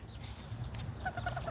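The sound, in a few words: ducks on the water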